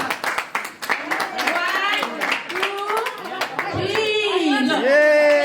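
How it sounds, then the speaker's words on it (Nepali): Family members clap along after a cake cutting at a get-together in Aldershot, with steady clapping under loud, overlapping talk and singing-like voices. "सबैले ताली लगाइदिनु होला"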